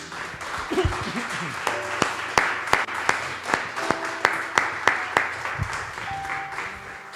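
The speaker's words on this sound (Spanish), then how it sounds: "Denle un aplauso al Señor, mi hermano y mi hermana." A church congregation claps in praise to the Lord, with sharp, evenly spaced claps in a steady rhythm that roughly follow a beat, while voices speak and sing over them.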